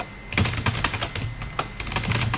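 Text being typed into a Microsoft Word document on a computer keyboard: close, irregular bursts of crisp key clicks with short pauses between runs of strokes, no voices.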